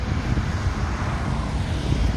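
Orion RF 244 mini tractor engine running as it drives off on delivery, a steady low rumble with broadband wind-like noise, continuous and moderately loud throughout, with no talking.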